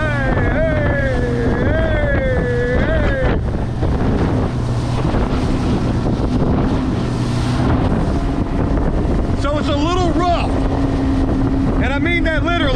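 A small motorboat powered by an old 1980 90-horsepower outboard drones steadily throughout over rough water, with gusting wind buffeting the microphone, slapping waves and people talking over the engine noise.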